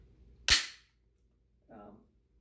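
Clearing a Glock 19 pistol gives one sharp, loud metallic snap, followed a second later by a softer, duller mechanical clack, close up in a quiet room.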